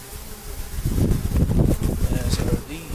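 Honeybees buzz at a hive entrance as foragers come in loaded with pollen, a close, continuous drone with fluttering pulses as individual bees pass near, and someone talks over them.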